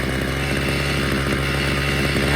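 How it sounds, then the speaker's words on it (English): A Ryobi CS26 string trimmer's small two-stroke engine drones loud and close under throttle, a rough, slightly uneven buzz that sags without revving up, with no voices. "It is bogging down."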